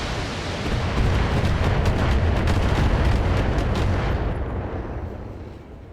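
Heavy weapons fire in the Battletech mech combat game, a dense roar of rumbling blasts and cannon impacts that stays loud and constant, then trails off near the end, with no talking.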